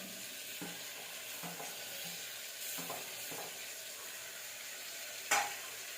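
Tomatoes frying in hot oil in a pan while preparing tomato rice, a steady soft sizzle with occasional stirring scrapes and one sharper clatter near the end, close and moderately quiet with no talking.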